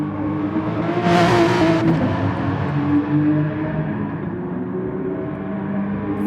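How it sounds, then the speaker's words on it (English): A Porsche 911 race car from GT Sport's Porsche 911 Meisterschaft race sweeps past with a loud engine whine that swells as it approaches and then fades off, with steady race-car engine drone continuing behind it. "Lovely sound as that Porsche flashes past."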